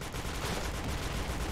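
Gunfire in a video game crackles as a dense, rapid burst of shots, loud and continuous for a second and a half, with no talk over it.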